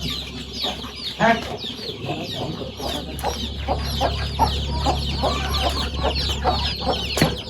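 Desi hens and chicks on a village poultry farm cluck and cheep continuously, a busy overlapping flock nearby with a steady low background hum.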